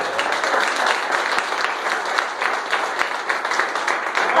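A church congregation claps together during a Portuguese-language sermon, a loud, steady wash of applause from a crowd with no pauses across the whole stretch.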